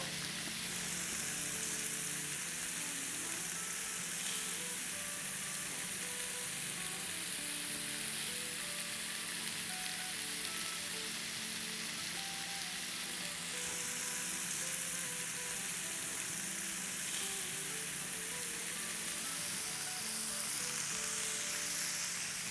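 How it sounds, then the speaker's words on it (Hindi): Yellow and green bell peppers with diced red onion sauté in a hot pan, giving a steady, loud, continuous sizzle throughout with occasional faint stirring and no talk. "तो चले इसको अब हम सॉटे करते हैं"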